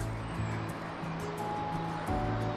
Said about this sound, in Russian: Слышим бегущую речку